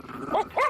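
A dog gives two short, sharp barks in quick succession, close and fairly loud, with no speech over them.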